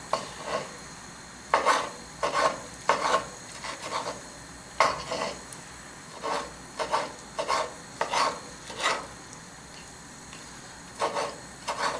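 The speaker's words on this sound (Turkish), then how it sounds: "Portakallarımızı bu şekilde doğrayacağız arkadaşlar." A knife chops repeatedly through oranges on a cutting board, irregular bursts of cutting and scraping separated by short pauses, close and fairly quiet.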